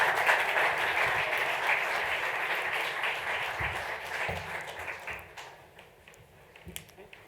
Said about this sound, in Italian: Un bel applauso per i nostri ospiti.